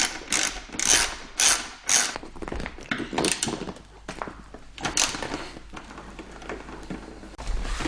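A hand ratchet clicks in quick bursts while loosening a 5mm seat bolt on a Yamaha R6 sport motorcycle, close and clear, with light metallic handling between the runs of clicks.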